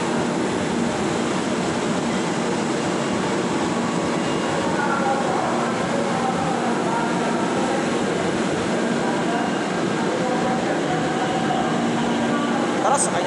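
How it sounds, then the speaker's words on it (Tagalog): An MRT3 metro train pulling into North Avenue station, a steady loud rumble and hum of rolling cars and motors filling the platform throughout. "Dito na ang MRT3."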